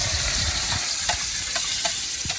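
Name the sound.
onions frying in a pan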